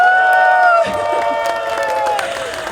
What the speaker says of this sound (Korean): 우리 모두 반드시 승리하겠다는 마음으로 함성과 박수를 담아서